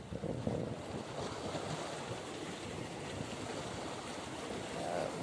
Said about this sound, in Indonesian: Masih di pinggir laut juga.